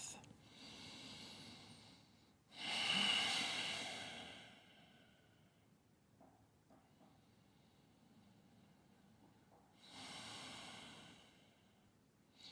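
Deep breathing during yoga practice: two long, close, audible exhalations, each lasting a couple of seconds, separated by quieter softer breaths in a calm room.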